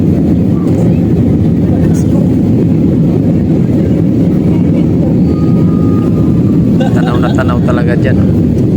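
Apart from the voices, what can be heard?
airplane climbing in flight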